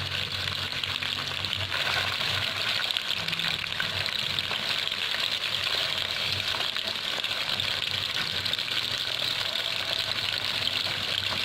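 Fish sizzles steadily in hot oil in a pan, a continuous dense crackle and hiss at even loudness with no talking.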